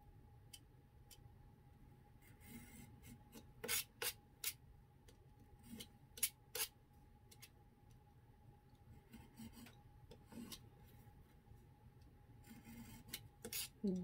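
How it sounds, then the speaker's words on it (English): Edges of a miniature dollhouse TV being trimmed, close and quiet, with scattered sharp snips and scraping strokes in irregular bursts over a faint steady hum. "Trim up the edges."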